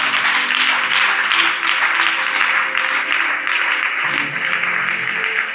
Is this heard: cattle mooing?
no